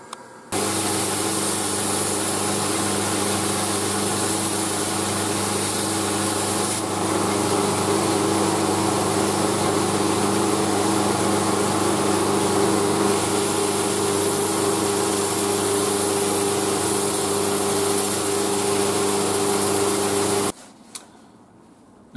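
A Husqvarna Forest axe being ground with 60 grit abrasive, a loud steady grinding drone that runs without a break for about twenty seconds and then stops abruptly, with no voices over it.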